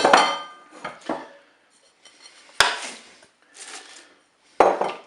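Cabbage and potatoes are dropped into a Cookeo multicooker pot, giving several sharp clattering knocks and scrapes of food against metal, spaced out with short quiet gaps between.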